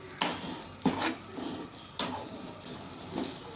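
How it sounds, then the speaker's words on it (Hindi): Egg and potato mixture stirred and cooking in a pan for a paratha filling, with a steady low sizzle broken by about four scraping stirs at irregular intervals, close and fairly quiet, no talking. "और इसको मिक्स करेंगे हम और 2 से 3 मिनट पकाएंगे।"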